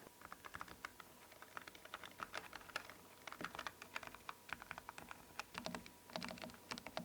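A Logitech G515 mechanical keyboard with double-shot PBT keycaps is typed on steadily, producing rapid, fairly quiet close-up key clicks in an even rhythm with short pauses.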